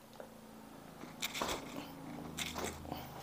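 Bones cracking during a bone therapy massage session. A few sharp, crunchy cracks and pops stand out close up over a low, quiet room background.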